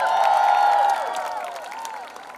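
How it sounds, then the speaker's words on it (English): Applause with cheers and whoops from the audience at a film promotion event, a loud crowd wash with rising shouts and whistles that gradually settles. "Please give them a huge round of applause."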